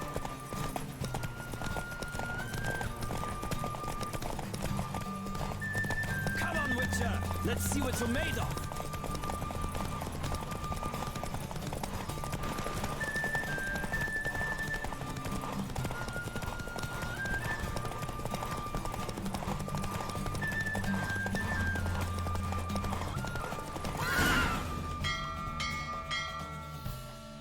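Hooves clip-clop steadily at a gallop beneath music and game effects in The Witcher 3: Wild Hunt, with a horse whinnying at moments and a voice calling out briefly.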